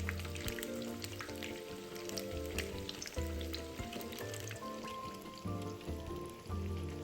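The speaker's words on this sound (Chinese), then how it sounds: "初下锅不要搅动，待豆腐油炸定型变轻后，再将豆腐上下翻个面" Homemade tofu cubes deep-fry in a wok of hot oil, giving a dense, continuous crackling sizzle close up, with faint tonal background sounds beneath.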